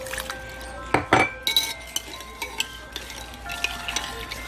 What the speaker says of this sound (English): We're going to stir it into the gelatin until slightly thickened